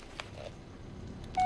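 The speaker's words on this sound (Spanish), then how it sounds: "A ver, tengo un mensaje de celular." A cell phone message alert sounds in the 2019 Blair Witch video game: a quiet, hushed forest ambience gives way to a sudden, loud, steady electronic tone at the very end.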